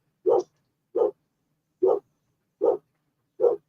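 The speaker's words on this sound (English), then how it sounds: "Dogs are going crazy." Five single dog barks come at roughly even intervals with silence between them, each short, clear and fairly close, with no voices.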